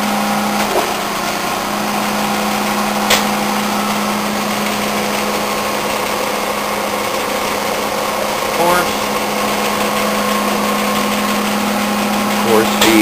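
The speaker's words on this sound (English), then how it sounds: "The, Okuma-Matrix GP33, we're doing a plunge grind operation" An Okuma-Matrix GP33 OD cylindrical grinder runs a plunge grind, giving a steady mechanical drone with a constant hum and faint high whine. A few brief clicks rise over it across roughly thirteen seconds.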